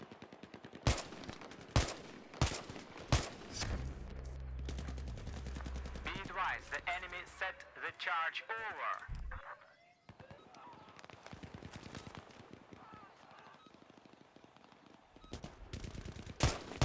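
Sniper rifle fire in the video game Battlefield 3, sharp gunshot cracks repeating at irregular intervals, some close together, mixed with game noise and bursts of other gunfire, with talk over parts of it.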